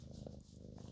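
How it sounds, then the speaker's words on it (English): A cat purring on someone's lap, a soft low rhythmic rumble heard up close, ending in a brief sharp click. "So if you hear purring or chewing"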